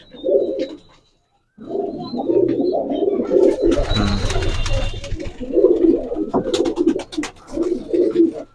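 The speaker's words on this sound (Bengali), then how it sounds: "অনেক কবুতর আছে সিয়াম ভাইয়ের খামারে" Pigeons at a high flyer pigeon farm coo in repeated close, throaty bursts with a brief pause near the start, and a rustle of wings or handling breaks in midway.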